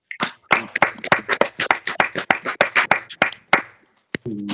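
A church congregation claps along during Sunday worship, a fast, steady run of sharp, loud hand claps in rhythm, near and dense, stopping abruptly before a brief voice at the end.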